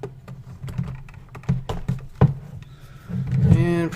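Packing tape is peeled off a GoPro Hero box during an unboxing, a series of quick crackling rips followed by a longer tearing stretch near the end, close up.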